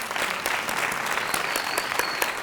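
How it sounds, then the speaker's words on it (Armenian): A studio audience at a television show applauds, a dense steady wash of many hands clapping with a few sharper claps poking through, loud and continuous throughout. "եկեք բարձր ծափարենք։"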